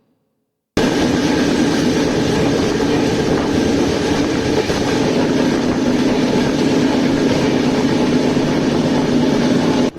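After a short silence, a passenger train travelling from Kolkata to Puri sets up a loud, continuous rumble and rattle, heard from on board, with steady low droning and faint rhythmic clatter throughout.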